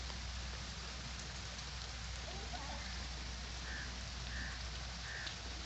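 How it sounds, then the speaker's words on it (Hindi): Steady rain falls continuously, a dense even hiss of drops on surfaces, with faint chirps briefly audible in the background. "और फिर बारिश सावन बरस पड़ा।"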